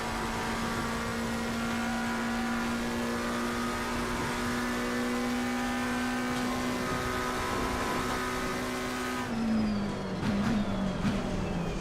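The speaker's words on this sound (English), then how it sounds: "How about them revs?" A McLaren race car in Assetto Corsa Competizione VR holds a steady, buzzing engine drone for about nine seconds, then the pitch drops and wavers as the revs fall away. It sounds moderately quiet, with no speech.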